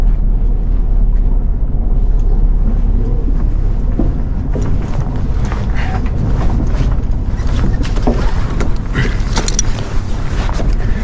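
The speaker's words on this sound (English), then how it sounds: "That's the engine stopping" An 85ft yacht's engine rumbles low and then falters, sputtering and clanking with creaks and wind noise as it dies out.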